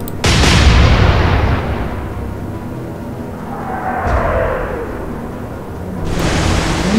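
Warship naval guns fire in the Atlantic Fleet video game: one loud, booming salvo lands at once, then a long rumbling roll, and a second heavy blast comes near the end.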